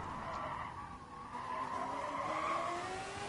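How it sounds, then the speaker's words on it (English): A car in the racing game Gran Turismo Sport locks up its front left tyre under braking, giving a sustained tyre squeal with a changing pitch over a steady engine drone. No one speaks. "Locked up in the front left there, a little bit under braking"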